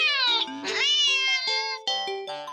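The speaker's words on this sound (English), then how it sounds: "the cat meows sharply at you and dashes off around the corner onto the hall" A cat meows sharply several times in a row. The calls are close, loud and rising and falling, with short pauses between them and nothing else heard.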